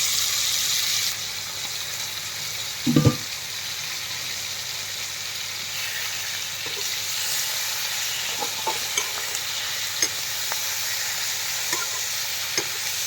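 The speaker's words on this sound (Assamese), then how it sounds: "মাংসৰ লগতে আলুটো ভাজি কৰি লওঁ" Local chicken meat and potato pieces frying together in a pan, giving a constant soft sizzle with one sharp utensil clatter early on and scattered light stirring clicks afterward.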